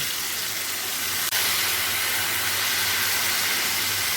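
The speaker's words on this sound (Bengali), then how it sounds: "কচু আলুগুলো এই তেলেই ভেজে নেব" Taro and potatoes frying in hot oil in a pan: a loud, steady, dense sizzle throughout, with one brief click partway through and no talking.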